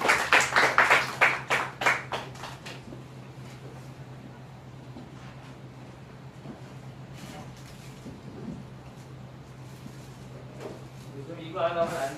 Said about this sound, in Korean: 그리고 나오실 때 박수로 환영하도록 하겠습니다.